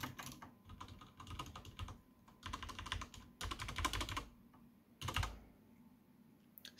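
Typing on mechanical keyboards with Cherry MX switches, Blue on a Ducky board and Red on a HyperX board, comes as bursts of rapid clacking keystrokes separated by quieter gaps, close and clear with no talking.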